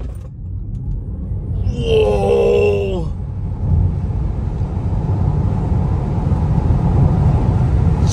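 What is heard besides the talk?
Tesla Model 3 Performance accelerating from 0 to 100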